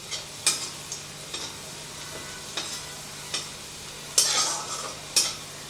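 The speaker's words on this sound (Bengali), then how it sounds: "তো রসুনটাকে একটু ভেজে নেব।" Chopped garlic and a dried red chili frying in hot oil, with a quiet, steady sizzle broken by light spatula scrapes and taps against the pan, plus a brief louder hiss of spitting oil near the end.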